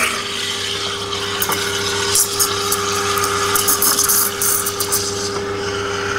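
An ECM Technika V Profi espresso machine purges condensed water, a steady pump hum with a hissing, gushing spray and a few small clinks, recorded up close.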